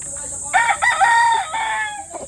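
A rooster crows once, close and loud, in one long cock-a-doodle call lasting about a second, over a steady high insect-like hiss in the background.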